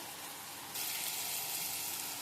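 Fish fry in a pan with wilted green chilies, spiced with chili powder and salt, in a steady, dense sizzle. The sizzle jumps louder partway through as the fish goes in, with no voices.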